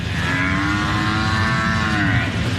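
A cow moos loudly at a large indoor livestock show and rodeo in Houston, one long drawn-out low call rising and falling over a constant roar of crowd and hall noise.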